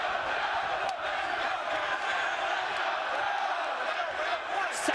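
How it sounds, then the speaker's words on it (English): Wrestling arena crowd at the 2007 TNA Bound For Glory pay-per-view roars and cheers loudly and continuously, a dense wall of voices with occasional whoops rising above it, no commentary over it. "It's almost better if we just lay out and let the crowd tell the story."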